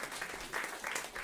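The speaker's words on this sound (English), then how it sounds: "Give them another round of applause" Audience applause for a panel at a food and health event, a brief burst of steady clapping from a crowd, moderately loud.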